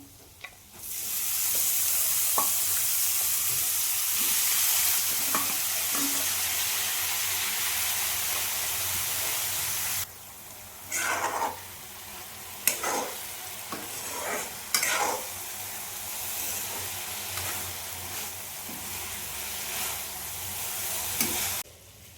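Chopped banana flower frying with browned onions in a pan, a steady loud sizzle with the sharp hiss jumping as the pieces hit the hot oil midway, followed by intermittent scraping stirs; no voices.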